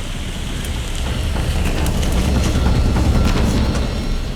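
Torrential rain pours down on a jungle, a dense, steady hissing roar that fills the whole stretch close up and unbroken, with no voices.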